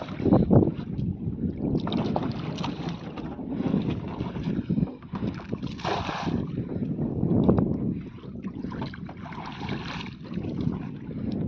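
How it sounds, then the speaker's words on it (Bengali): A steady low drone from a small fishing trawler's engine rumbles throughout, mixed with wind buffeting the microphone and occasional faint sounds of water and creaking. "এই একটা মিনি ট্রলার আছে"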